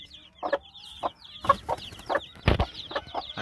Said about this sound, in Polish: Kura.